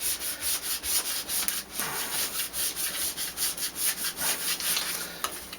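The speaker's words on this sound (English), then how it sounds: "give that a good rub so the letters stick to the board" Transfer tape is rubbed down firmly onto letters on a wooden board, giving a quick rhythmic scraping and rubbing, steady strokes close up with no talking.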